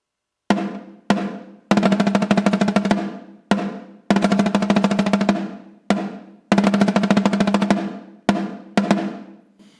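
Crisp snare drum strokes in a slow march rhythm, single hits alternating with rapid rolls, loud and close with short gaps between phrases.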